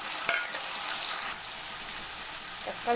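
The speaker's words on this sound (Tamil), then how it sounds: "வெங்காயம் வணங்கிடுச்சு, நம்ம தக்காளி சேர்த்துக்கலாம்." Tomatoes added to sautéed onions fry in a pan for brinjal curry, giving a steady close sizzle with light stirring scrapes, alone without talk.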